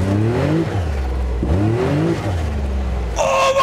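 Turbocharged motorcycle from Säter Cykel & Motor, ridden in Avesta, accelerating hard with a loud, close engine whose pitch sweeps upward repeatedly through gear changes, ending in a sharp turbo whoosh.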